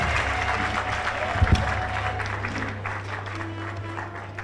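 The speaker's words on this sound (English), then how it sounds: "let's put our hands together for our candidates" Applause from a seated audience greeting shortlisted candidates at a university vice-chancellor presentation, steady clapping throughout with a steady low hum underneath and a couple of louder thumps near the middle.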